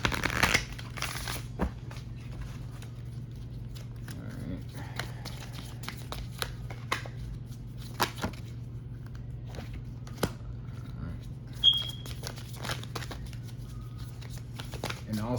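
A deck of karma cards is shuffled in bursts of soft riffling and tapping during a tarot-style reading, with a person talking quietly over a low steady hum.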